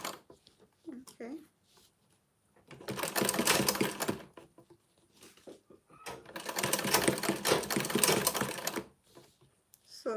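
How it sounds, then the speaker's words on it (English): A sewing machine stitches close to the zipper teeth of a bag in two sustained rapid runs of a few seconds each, close up, with brief pauses and quiet handling noise between them. "I'm just basically sewing a bit close to the zipper teeth"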